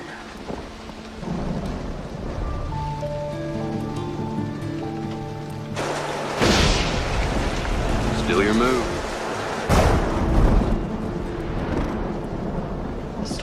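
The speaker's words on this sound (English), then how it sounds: "The storm's getting worse." A heavy rainstorm with thunder batters a frontier homestead. Steady rain hisses under music and a brief spoken line, broken by two loud, rumbling thunder crashes.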